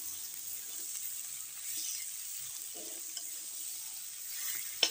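Cabbage and potatoes sautéing in a pan for a vegetarian dish, a faint, even sizzle with occasional soft stirring scrapes and a brief clink near the end, quiet and close with no one speaking.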